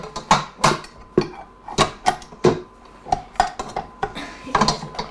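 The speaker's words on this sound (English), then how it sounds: "We're gonna mix these up till they're mixed up really well" Ingredients mixed by hand in a bowl for Halloween party treats, with a utensil clacking and scraping against the bowl in a steady run of sharp, close knocks, no talking.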